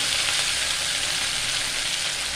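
Black pepper and cumin seeds fry in hot oil for pongal, a loud, steady, close hiss and crackle that holds without pause.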